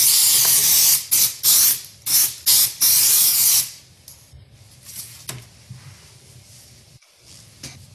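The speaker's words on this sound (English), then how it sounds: "Spray the back of your backer board with accelerator." Accelerator is sprayed from a pump bottle onto the back of a cut backer board at a work table, about five short loud hissing bursts close by, followed by quieter handling noises.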